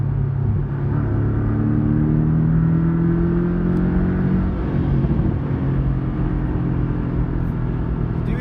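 A Porsche 718 Cayman S with its sport exhaust switched on accelerates, a loud, close, continuous engine drone that rises in pitch through the gears and then drops back, with a steady low rumble underneath.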